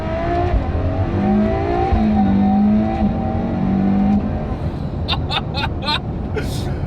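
Ferrari F12 TDF V12 engine revving under the driver's paddle shifts, a loud, close roar with rising and falling pitch, then a quick series of sharp clicks near the end, with a voice faintly under it.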